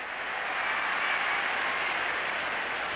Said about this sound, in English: The Collingwood crowd has come to life once again